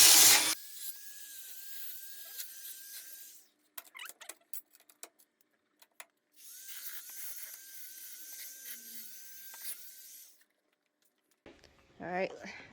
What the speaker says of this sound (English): Just smoothing out some edges.